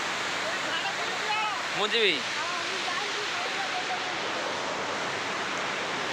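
Gandahati waterfall near the Taptapani hot spring: a dense, steady roar of falling water fills the scene, with a voice speaking briefly near the middle.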